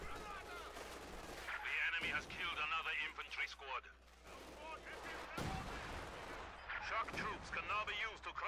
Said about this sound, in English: I'll throw lots of grenades because I have unlimited munitions